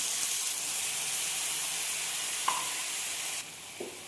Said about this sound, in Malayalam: ഇനി ഇതിലേക്ക് ഒരു 1/2 കപ്പ് ചൂടുവെള്ളം തന്നെ ആഡ് ചെയ്ത് കൊടുക്കാം